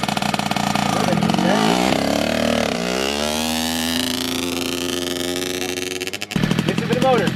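A motorcycle engine is revved and throttled, climbing in pitch and then dipping, loud and close; a short burst of other noise follows near the end.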